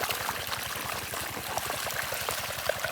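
Irrigation water flowing into a farm field, a steady low rushing and trickling stream heard nearby, continuous throughout with faint outdoor background.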